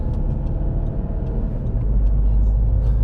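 A Seat Ibiza 2.0 TDI CR with 300 bhp being driven, heard from inside as a loud, steady low engine and road rumble with faint ticks, deepening toward the end, with no talk.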